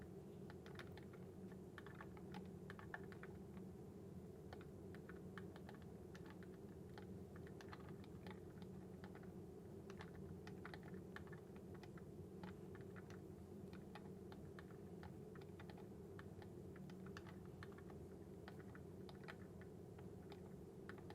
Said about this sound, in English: I am just hitting all sorts of wrong keys on this one.